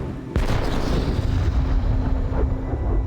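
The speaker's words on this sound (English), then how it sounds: "It's time to try the culverin against a target, just 10 feet square, but the thickness of a ship's hull." A culverin cannon fires a cannonball from a level barrel at a ship-hull-thick target 150 meters away, giving one heavy, close boom followed by a long rumbling roar that fills the rest of the clip.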